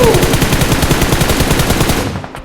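Rapid automatic gunfire from PUBG Mobile, a dense, loud, steady burst of shots lasting about two seconds, then cutting off abruptly.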